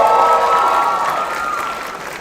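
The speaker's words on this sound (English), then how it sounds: "Can we all just cheer for the hard work all these students have put in to make the show awesome?" A student show audience claps and cheers loudly as one dense, sustained crowd roar that slowly fades.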